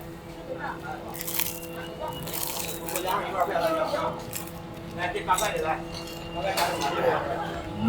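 Crisp deep-fried lion's head snack with a flower-roll shell and spicy sauce filling is bitten and chewed, giving scattered crunches and clinks under steady talk in a busy eatery.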